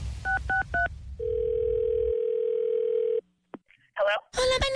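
A telephone dial tone during a radio prank call: three short beeps, then a long steady tone that stops sharply, followed by a few brief clicks and then a voice speaking.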